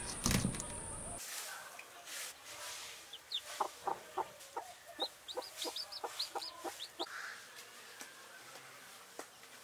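Chickens cluck in a rapid series of short clucks, fairly near, at a farm in West Africa, after a loud clattering noise at the start and over faint background hiss.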